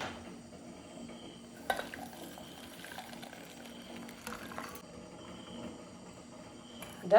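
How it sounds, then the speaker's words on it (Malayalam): Boiled orange peel is strained from a metal pot, giving faint scraping and clinking of metal with a sharper clatter near the end, over a quiet background. "അപ്പോൾ ഇതാദ്യം അരിച്ചെടുക്കട്ടെ."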